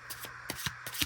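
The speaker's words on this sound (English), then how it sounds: "I'm shuffling and shuffling and shuffling." Tarot cards being shuffled by hand, a close, quiet series of crisp riffling and sliding bursts, about five quick swipes in just over a second, with no talking.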